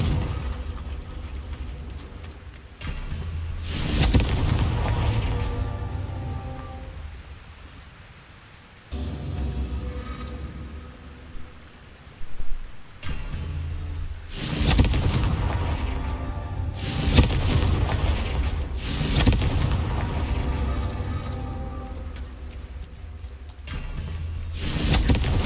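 Repeated Confringo blasting curse explosions in Hogwarts Legacy: a series of loud, booming bursts with broad crackling tails, coming every few seconds over a rumbling game backdrop, with no talking.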